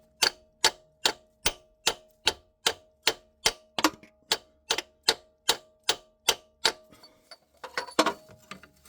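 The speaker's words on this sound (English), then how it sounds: "Give her a good couple whams. Hit it all around." A hammer strikes a socket to seat a power transfer unit seal on a 3.5 L Ford Flex, Escape or Edge, making about sixteen sharp evenly spaced metallic blows, close and loud, then a few scattered knocks and clatter at the end.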